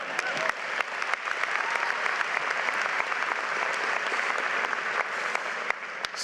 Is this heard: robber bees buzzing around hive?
no